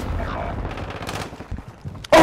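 Rapid gunfire bursts in Call of Duty: Modern Warfare II, dense and continuous through the first half, thinning into scattered shots before a loud sharp burst at the end, with no voices.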